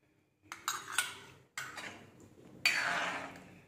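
A spoon stirring drumstick curry with black masala in a metal pan, several separate bursts of scraping and clinking against the vessel, close and fairly clear with short pauses between.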